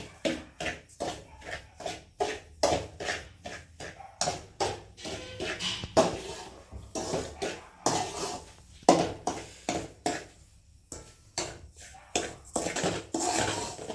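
A spatula scrapes and taps against a pan while semolina is roasted for sweet rava laddus, producing rhythmic metallic strokes with short pauses that stay close and moderately quiet.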